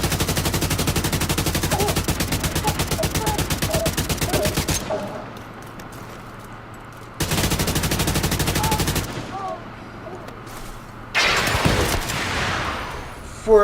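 AKM rifle gunfire in The Division 2: loud, sustained bursts of rapid automatic fire in three separate runs, close up, with quieter game sounds in the pauses and a voice talking over it.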